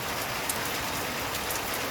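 Torrential rain on the east coast of Australia pours in a dense, unbroken roar of drops on surfaces, loud and near, with no voices.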